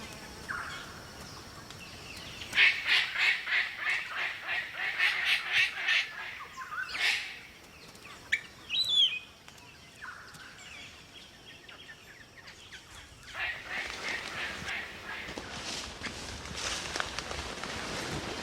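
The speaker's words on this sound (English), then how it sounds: "His quest was to unlock the secrets of the world's most spectacular cockatoo, the palm cockatoo." A palm cockatoo calls in the wild, a run of loud repeated harsh squawks and whistles in the first half, then a brief sharp note and a later burst of rasping calls against quieter background.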